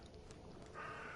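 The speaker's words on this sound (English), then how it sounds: "Like hear a bird." A bird calls in a video game, a faint, sustained chirping tone rising out of quiet background ambience partway through and continuing to the end.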